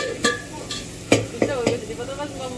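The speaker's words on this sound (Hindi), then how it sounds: "तो अभी यहाँ पे मटर टमाटर अच्छी तरीके से भुन चुके हैं" Peas and tomatoes sizzle as they fry in a pan on a home stove, with several sharp scrapes and clinks of a spoon stirring against the metal, all heard close up.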